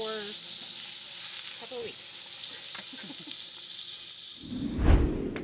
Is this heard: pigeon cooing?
no